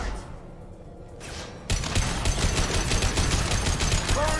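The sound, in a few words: concussive shot firing in video game Mass Effect 2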